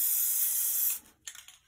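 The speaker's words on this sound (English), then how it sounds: "I'm just going to spray right into the water." A loud aerosol spray-paint can hisses for about a second as paint is sprayed into water for hydro dipping a flask, then cuts off, followed by a short softer burst and faint rattling.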